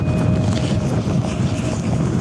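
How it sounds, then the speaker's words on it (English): Continuous loud wind rumbles against the microphone on Beacon Hill at Harting Down, West Sussex, a steady low roar with faint tonal whines in the background. "It's quite windy, so I hope you can hear me okay."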